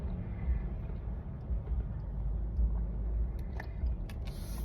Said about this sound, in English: And this traffic is